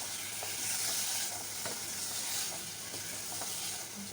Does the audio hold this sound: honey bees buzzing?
no